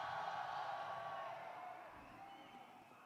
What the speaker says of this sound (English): The crowd staying hyped